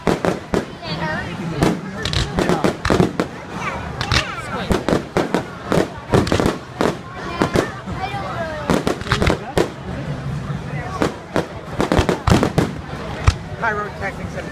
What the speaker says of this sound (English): Pyrotechnics at its finest.